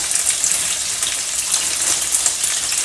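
Frozen ingredients for beef caldereta sautéing in a pan, a loud, close, hissing sizzle with crackling spatter that runs continuously.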